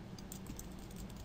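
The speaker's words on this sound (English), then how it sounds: "you're going to want to type in wget" Quick keystrokes on a computer keyboard while entering a Linux command to set up a Pogoplug V2 as a personal server, faint and close over a steady background hiss.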